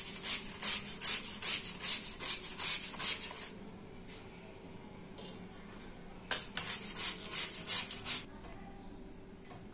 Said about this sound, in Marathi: ओके, आपण आता हे बटाटे सर्व किसून घेऊया।